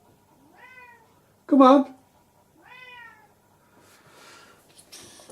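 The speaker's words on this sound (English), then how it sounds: "I can hear my cat whinging" A house cat meows twice in a drawn-out, complaining way, close by and fairly quiet, with a person's short spoken line in between.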